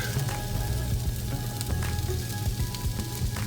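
Chopped white onion and about four crushed garlic cloves land in two to three tablespoons of hot olive oil, giving a steady close crackling sizzle with scattered pops.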